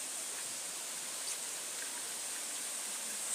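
A river flowing on a rural property in Jamaica, a steady broadband rush of water that holds even and continuous with no voices.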